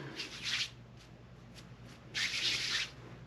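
Beard balm is rubbed between two hands in two soft, close swishing strokes separated by a quiet pause, faint and without talk.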